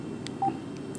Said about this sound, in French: Donc, je vais taper mon code PIN.